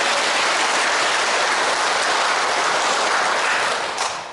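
Loud, dense applause from a large audience at a Lenten lecture in a Catholic parish, a continuous roar of clapping held at full strength before easing slightly at the end.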